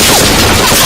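Dense burst of rapid gunfire from a dubbed action film, loud and close, filling a brief moment with crashing shots.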